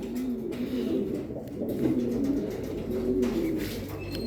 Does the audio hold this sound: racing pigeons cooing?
yes